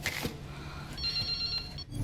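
A mobile phone rings in the Resident Evil Requiem video game: a thin, steady electronic trill holds for about a second over low background rumble, with no talking.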